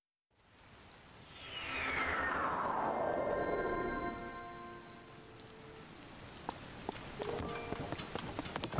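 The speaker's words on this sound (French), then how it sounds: "Il s'est mis à pleuvoir." Rain falling in Zelda: Tears of the Kingdom, a steady hiss of rain that swells in and then holds beneath a falling game tone, with soft patter and a few light clicks, no talking.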